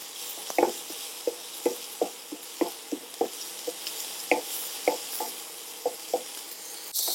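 Tomato cooking in a pan, with a faint sizzle under a series of sharp spoon-stirring scrapes and taps against the pan, roughly one or two per second, close and fairly quiet.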